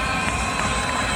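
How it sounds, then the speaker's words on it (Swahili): A crowd applauds and cheers at a football club's new-player unveiling event for Shabana FC, a dense, steady burst of clapping and voices filling the short moment. "Wapigie makofi tafadhali."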